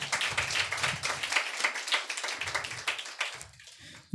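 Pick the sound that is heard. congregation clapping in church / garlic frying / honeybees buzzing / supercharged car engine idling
congregation clapping in church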